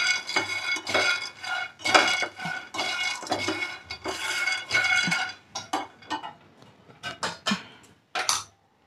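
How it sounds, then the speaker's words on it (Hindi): Raw peanuts dry-roasting in a pan are stirred in repeated close bursts of scraping and rattling, with short pauses between strokes and no voices. "इसे क्रिस्पी होने तक भून लेंगे"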